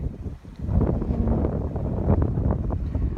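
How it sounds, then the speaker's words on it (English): Wind gusting across an open rural level crossing on a bright day, a steady low rumbling buffet with uneven surges, close to the microphone and heard alone. "It's just a bit windy."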